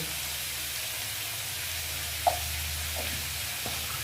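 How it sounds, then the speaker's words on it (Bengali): Potatoes frying in a pan with salt and turmeric give off a soft, steady sizzle and hiss, with one brief clink of a utensil partway through and a low hum underneath. "দিয়ে আলুটা ভালো করে ভেজে নেব"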